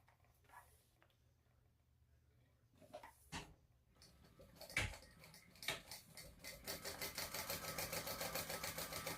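A sewing machine stitches a 1/8-inch seam down the edges of a crossbody bag, starting after some quiet handling clicks and building into a fast, steady rhythmic whir close by.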